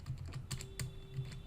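A password is typed on a computer keyboard: a steady run of quick, close key clicks at an even pace, with no talking.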